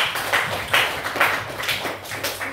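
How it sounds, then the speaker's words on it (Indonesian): A class of students gives a round of applause, scattered claps pulsing in uneven bursts at moderate loudness in a room, with no voices over it. "Oke, kasih tepuk tangan."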